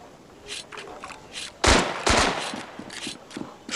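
Gunfire from a gun in the mobile shooter Standoff 2, a string of sharp shots in quick bursts, with two louder, heavier volleys in the middle and lighter shots scattered before and after.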